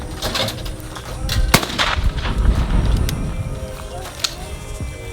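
Gunshots in a shooting game, several sharp cracks and booming bursts spread across a few seconds, loud and close, with scattered vocal exclamations.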